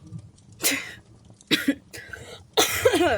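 Three harsh coughs spaced about a second apart, close and loud, the last one rougher and trailing off, with no talking.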